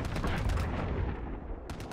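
Quick rattling burst of gunfire in a first-person shooter, loud and dense, with a few sharp shots trailing at the end.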